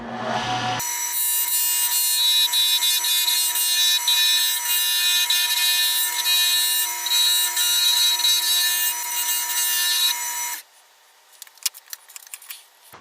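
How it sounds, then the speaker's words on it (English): Roughing gouge turning an Alumilite and Hawaiian curly koa hybrid pen blank on a lathe: a loud, steady bright scraping hiss for about ten seconds, then it stops, leaving faint clicks and small knocks. "Let's see how well this roughing gouge will turn this Alumilite."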